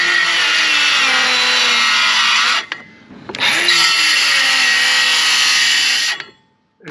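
Milwaukee M12 compact saw notching a wooden board: a loud, close, high whine of cutting that runs for over two seconds, stops briefly, then cuts again for about three more seconds before cutting off.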